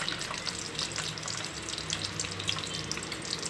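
Halved boiled eggs fry in turmeric-tinged oil in a kadai, giving a steady, close sizzle with a dense hiss and scattered crackling pops throughout, with no talking.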